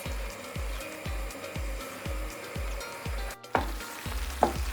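Meat with spices sizzles steadily in a pan while a utensil scrapes and stirs it in a regular rhythm, close and moderately loud, with no talking.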